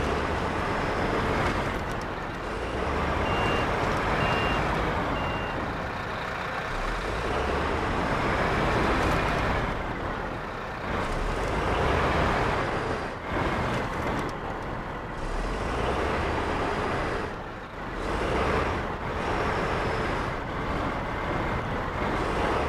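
A wheel loader in the Snowrunner video game strains while stuck, its engine droning and revving in a long uneven roar that rises and falls, with the machine's loudness dipping briefly between efforts.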